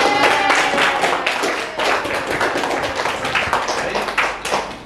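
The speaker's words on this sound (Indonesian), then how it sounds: "kita kasih aplaus untuk semua kelompok ya" A classroom of students claps for all the groups, a dense burst of applause that starts loud and trails off gradually, many hands together at close range.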